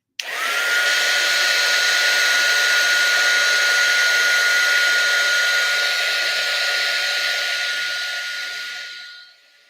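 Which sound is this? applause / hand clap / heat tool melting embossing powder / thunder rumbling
heat tool melting embossing powder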